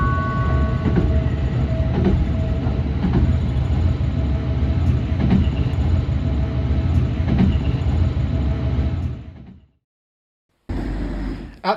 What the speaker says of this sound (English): we're rattling over the Saar and into France